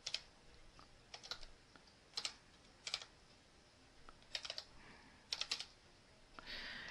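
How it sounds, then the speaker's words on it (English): Short bursts of typing on a computer keyboard, with quick clusters of key clicks separated by pauses, recorded close and fairly quiet. "you just type in the variable."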